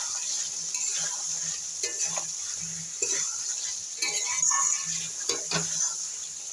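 Prawns going into a pan of potatoes fried with spices for a jackfruit and prawn curry, a steady close sizzle with scattered stirring scrapes and utensil knocks, no talking.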